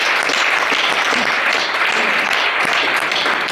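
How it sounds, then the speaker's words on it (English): Audience applause at a mentoring workshop session, a steady wash of many hands clapping at close range that holds for several seconds without letting up. "I think that needs a round of applause."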